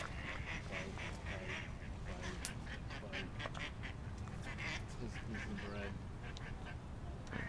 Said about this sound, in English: Cause this duck won't shut the hell up.